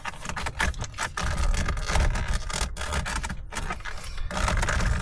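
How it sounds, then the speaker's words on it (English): A leather-style protective steering wheel cover is worked and stretched over a Honda Civic 10th Gen wheel on a cold day, giving close, continuous rubbing, scraping and creaking with short tugging pauses. "you're just going to going all the way around, stretching it over on the back side"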